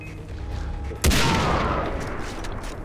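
A single sharp sniper rifle shot from the shooter game Far Cry 3 cracks out loudly midway, followed by a booming echoing tail that slowly fades, with quiet game ambience before it.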